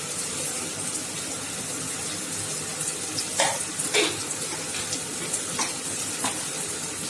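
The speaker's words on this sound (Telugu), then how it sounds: "కొద్దిగా గరం మసాలా వేసుకోవాలి" Garam masala and chilli powder fry in a pan for tomato rice, giving a continuous soft sizzle with scattered light clicks and scrapes as a spoon stirs the mixture.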